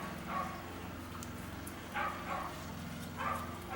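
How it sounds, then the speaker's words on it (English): A neighbor's dog barks in the distance outdoors, with three faint, widely spaced bursts of yips over a steady low background hum. "Of course, the neighbor's dog has to go like crazy barking right now."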